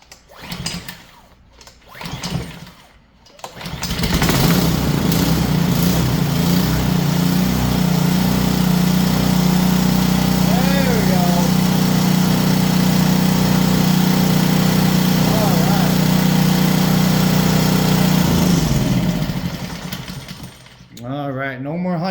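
A Dewalt 3100 psi pressure washer's small engine catches after a few short pulls and then runs at a loud, steady drone for about fifteen seconds before it cuts off.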